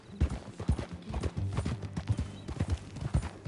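Horse hooves clip-clop at a steady riding gait in the Red Dead Redemption 2 video game, a close, rhythmic series of thuds with faint tack jingles and an occasional snort.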